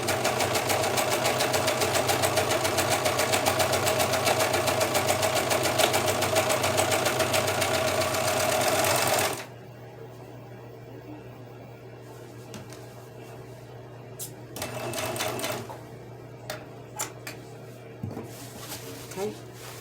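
A four-thread serger sews a pair of pants in one loud, steady, rattling run lasting several seconds, then stops and gives way to talking and small handling noises.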